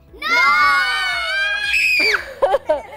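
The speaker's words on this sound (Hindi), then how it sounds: "Can you all scream and से नो?" A group of children screams "no" together in one long, loud, sustained shout, trailing into scattered cries and chatter at the end.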